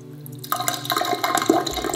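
Water running from a tap in an abandoned building with old, poor plumbing and a weak flow; a steady hiss and splash starts abruptly after a quiet moment and continues close by.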